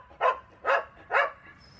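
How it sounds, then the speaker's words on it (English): A dog barks three times in an evenly spaced series, moderately close and clear over a quiet background, with no talking. "And now we got a barking dog."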